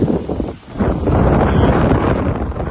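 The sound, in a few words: strong wind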